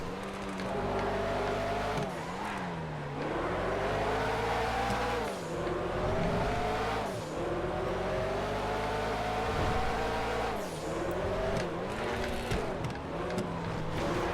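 A race car engine in the GTA FiveM video game during an old-school Le Mans-style race: a loud, continuous roar with repeated dips and climbs in revs as gears shift, running steadily throughout.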